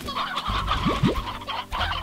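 Chickens clucking in the video game Slime Rancher, a few short, close clucks and squawks in quick succession over a soft game background.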